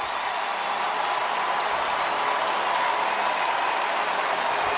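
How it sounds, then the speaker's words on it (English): Stadium crowd at a college men's lacrosse tournament game between Harvard and Syracuse in a dome, cheering and applauding in a steady, loud, unbroken roar of clapping and voices filling the whole space. "The crowd is on its feet."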